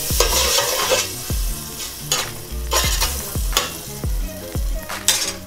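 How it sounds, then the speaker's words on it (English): Butter melting in a pot for fettuccine Alfredo, sizzling under loud, repeated clanks and scrapes of a utensil against the pot, close up with no voices. "you grab a small chunk of butter, and then you put it inside your pot. You just let it melt for a little bit."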